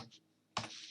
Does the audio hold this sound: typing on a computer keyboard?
yes